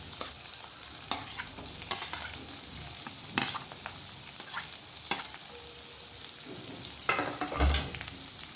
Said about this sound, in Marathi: आता आपण कांदा टाकणार आहोत.